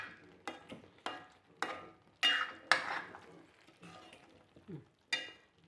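Pepper chicken roast stirred in a pan, a spoon scraping in repeated close strokes about every half second, with a soft sizzle underneath and occasional clinks.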